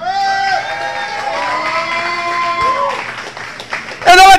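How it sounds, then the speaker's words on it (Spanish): Crowd cheering and applause at a live concert as band members are introduced, loud and continuous with whoops and shouts rising over sustained tones, ending in a sharp burst of clapping and yells. "fuerte el aplauso"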